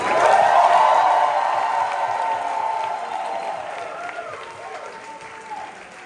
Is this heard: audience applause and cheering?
yes